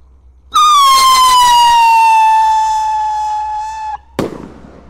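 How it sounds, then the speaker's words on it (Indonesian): A blue Roman Candle rocket firework launches on New Year's Eve with a loud, sustained whistling shriek that slowly falls in pitch for several seconds. A sharp pop follows at the end, close by. "Selanjutnya yang kita nyalakan di sini ada roket pirotar Romain Candle warna biru ya"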